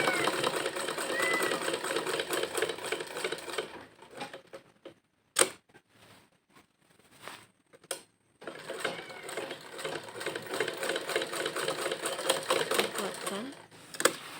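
Sewing machine stitching an elastic waistband seam, running in close rapid bursts with a brief pause mid-way, under a voice speaking Indonesian.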